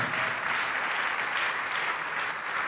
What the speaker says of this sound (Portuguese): Vamos aplaudir mais ao Senhor.